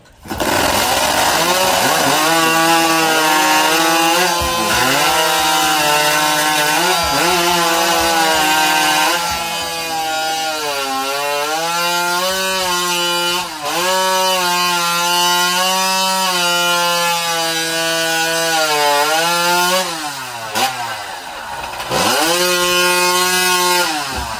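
A chainsaw cutting through an upright standing wood block in a women's timber sports elimination event, engine screaming loudly and continuously with its pitch rising and falling as it bites into the timber.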